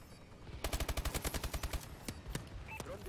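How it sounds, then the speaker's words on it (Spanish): Rapid bursts of heavy gunfire and explosions from an allied bombardment in a first-person shooter game, a rhythmic string of sharp impacts followed by scattered blasts, with no talk. "Bombardeo aliado en curso."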